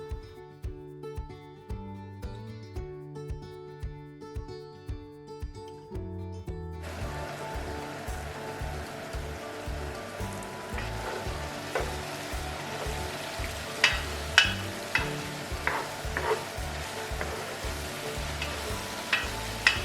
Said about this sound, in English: we are going to fry it nicely for about 5 minutes